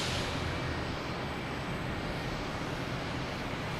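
United Airlines Boeing 737 MAX 8 taking off at Boston Logan, a steady broad roar of jet engines heard from a distance, continuous with no talk.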